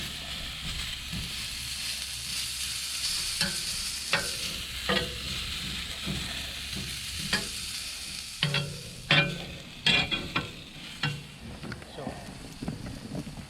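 Vegetables sizzle and crackle on a preheated grill pan, a steady broadband frying hiss with scattered sharp pops and scraping stirs, close and moderately loud, with a voice talking intermittently over it.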